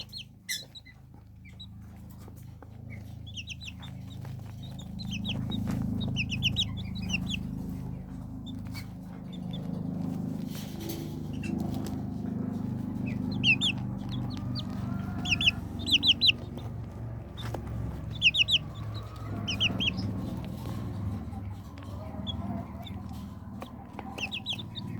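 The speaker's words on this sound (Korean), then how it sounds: "닭들은 항상 이렇게 모이를 먹을 때도 열심히 먹어요" Tiny serama and silkie chicks about 24 days old cluck and peep busily while pecking at feed, high chirps coming in bursts over a low steady hum, close and moderately loud, with no talking.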